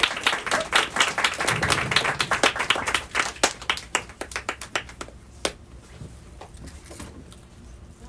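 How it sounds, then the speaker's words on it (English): A small audience at a book launch claps, starting as dense applause and thinning out into scattered individual claps before fading away. "Let's give him a round of applause."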